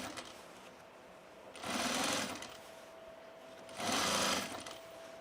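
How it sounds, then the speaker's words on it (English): Two short, even bursts of a sewing machine stitching a facing edge at full seam allowance, each about a second long, separated by a quiet pause. "I'm just gonna sew from the center and go down"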